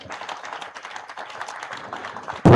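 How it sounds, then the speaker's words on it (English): Audience applause at a memorial tribute night, a steady patter of many hands clapping at moderate distance, ending with a sudden loud close burst. "let's keep clapping"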